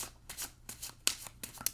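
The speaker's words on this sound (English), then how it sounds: "as you can see, I'm shuffling" Tarot cards being shuffled by hand, a rapid series of crisp riffling and flicking bursts, close and fairly quiet, with no talk over them.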